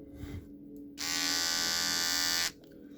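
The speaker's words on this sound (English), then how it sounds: "it's a really nice shaver" A Philips Norelco electric shaver switches on and buzzes steadily for about a second and a half, loud and close, then cuts off.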